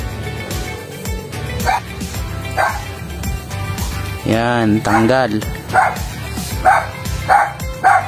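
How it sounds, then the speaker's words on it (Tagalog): A dog barks and yips in short, repeated bursts, some whimpering, close by and loud, mixed with someone talking over it. "parang ingay na aso"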